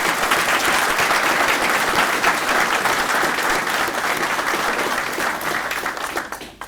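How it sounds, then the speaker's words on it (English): An audience at a military retirement ceremony gives a sustained round of applause, loud and dense, gradually tapering off with a few scattered claps at the end. "let's give them a round of applause"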